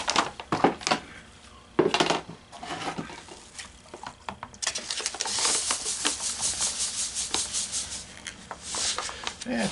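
Gold pay dirt being panned in a large pan: gritty swirling and scraping of material with water sloshing, steady and close, with short louder washes and pauses throughout.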